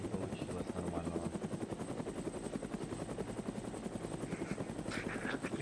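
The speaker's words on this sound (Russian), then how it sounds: "Не отвлекаемся на вертолет и смотрим свои позиции" A military helicopter in the video game Arma 3 thumps steadily with loud, continuous rotor chop throughout, with a brief burst of distant gunfire near the end.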